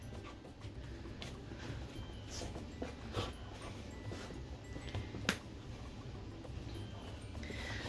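Two dogs playing make soft panting, snuffling and low grumbling sounds close by, with a few small sharp yips breaking through a steady background.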